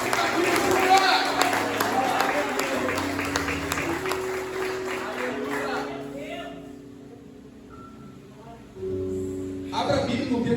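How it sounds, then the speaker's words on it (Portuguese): A church congregation breaks into applause, broad clapping with crowd noise and faint voices that thins out midway, then a fresh burst of clapping near the end. "dê uma salva de palmas ao nosso Deus"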